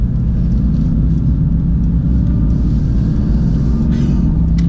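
A Mercedes-AMG GT S sports car cruises along with a deep, steady engine and road rumble filling the cabin, loud and continuous with no voices heard.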